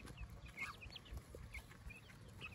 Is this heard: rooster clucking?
yes